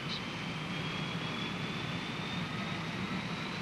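A jet engine starting up: a steady, loud roar with a thin high-pitched whine running throughout, constant and close, with no voices.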